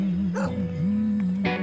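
A dog gives two sharp barks a second apart, close and fairly loud, over a steady low hum in the background.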